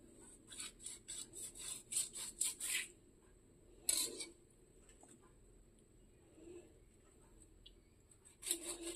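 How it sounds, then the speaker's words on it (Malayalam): A sharp knife saws through a tuna to take its head off, with a burst of rapid rasping strokes, a single louder scrape, then quiet before another short scrape, close and fairly faint. "ഫസ്റ്റ് നമ്മൾ തലഭാഗം കട്ട് ചെയ്യാം"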